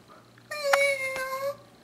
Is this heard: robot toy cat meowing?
yes